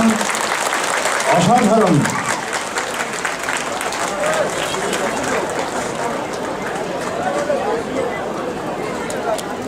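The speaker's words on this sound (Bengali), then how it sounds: "জোরে হাততালি, খুব জোরে হাততালি" A crowd of audience members claps loudly and steadily throughout, with a single voice exclaiming briefly near the start.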